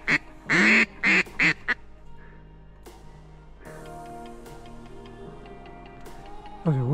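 Several loud, clipped wood duck calls in a quick burst at the start during a duck hunt, then quiet ambience with faint ticking and another squeal-like call at the end.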